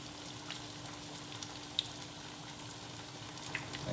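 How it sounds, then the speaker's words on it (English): Beer-battered halibut fillets fry in hot oil in a pan for fish tacos, a faint, steady crackling sizzle with occasional small pops throughout. "that bubble, almost like bacon frying"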